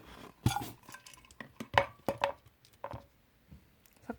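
Two toothpicks mix wood glue with paint for a miniature hot dog craft, giving faint, close, irregular little taps and clicks against a small container, with quiet gaps between them.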